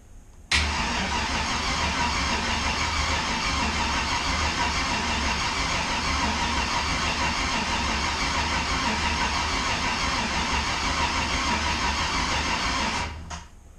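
An LS V8 engine in a Mustang cranks on its starter without firing, a loud, even, continuous churn lasting about thirteen seconds before cutting off.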